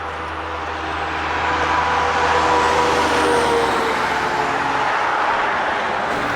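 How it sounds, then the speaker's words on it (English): Road traffic on Route 183 roars loudly and continuously beside a woodland hiking trail at Blue Marsh, a dense wash of passing vehicles swelling slightly midway. "we've been kind of dealing on and off with the traffic noise from Route"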